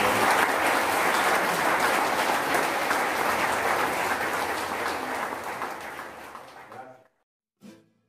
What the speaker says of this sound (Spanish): Yo quisiera pedir un gran aplauso ahorita a la compañera.